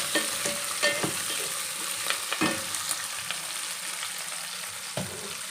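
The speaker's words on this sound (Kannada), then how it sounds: "ಚೆನ್ನಾಗಿ ಫ್ರೈ ಮಾಡ್ಕೋಬೇಕು ಫ್ರೈ ಆಗಬೇಕು ಚೆನ್ನಾಗಿ" Green chillies and onion sizzle steadily in hot oil in a pan for an avalakki chitranna, with occasional stirring scrapes and clinks, close and alone.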